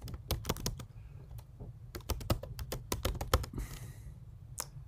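Rapid typing on a computer keyboard, close and crisp, with irregular bursts of key clicks and short pauses over a steady low hum.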